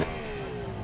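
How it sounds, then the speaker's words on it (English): A two-stroke motorcycle engine zings at a hill climb event, holding a steady, high, buzzing drone that sags slightly in pitch across one continuous moment, with no voices over it. "Two-stroke zinging"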